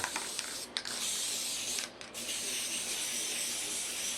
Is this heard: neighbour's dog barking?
no